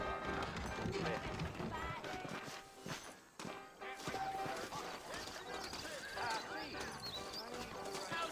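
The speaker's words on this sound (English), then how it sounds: "I got the horses saddled up and ready out front." Horse hooves clip-clop in Red Dead Redemption on Xbox One, a busy run of hoofbeats mixed under game music and other effects, with a brief dip partway through.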